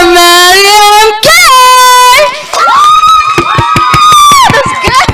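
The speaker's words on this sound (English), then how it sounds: "So everyone, give it up for Medium K!" A small gathering cheers with loud, high-pitched shouts and whoops, voices rising and falling close by, with a few scattered claps mixed in.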